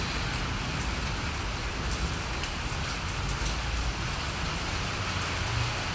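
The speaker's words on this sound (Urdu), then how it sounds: "یہ دیکھیں بارش کی رفتار." Heavy storm rain pours down in Islamabad, a dense and continuous hiss of drops hitting surfaces, loud and steady for the whole stretch, with no talking.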